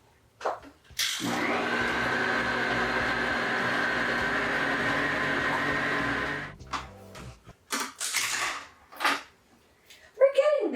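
Electric hand mixer runs on medium to high speed through mashed potatoes, a steady loud whir for about five seconds, then stops, followed by brief scraping and clatter and a voice near the end.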